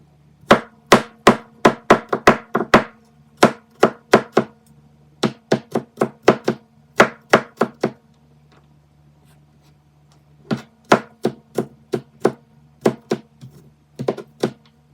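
A knife chops garlic on a cutting board in quick bursts of sharp, close thwacks, several runs of rapid strokes separated by short pauses, with no talking.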